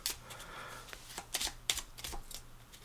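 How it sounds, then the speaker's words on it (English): Playing cards being shuffled by hand at a tabletop session of the board game Skulk Hollow, a quiet run of crisp riffling snaps and flicks in short bursts, close and fairly faint. "but I need to shuffle."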